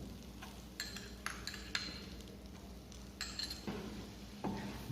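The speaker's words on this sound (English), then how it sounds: "Now after melting this butter, add a chopped garlic that we have done." Chopped garlic sizzles softly in melted butter while a utensil stirs, scraping and clinking against the pan in several sharp taps over a steady low fry.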